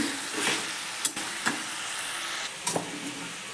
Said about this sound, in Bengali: একটু টমেটো, ভালো করে কষিয়ে নিচ্ছি।